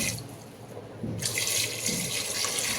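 Tap water runs into a pressure cooker holding about two kilograms of potatoes, filling until they are covered; a steady, close rushing splash starts partway through and continues without talk.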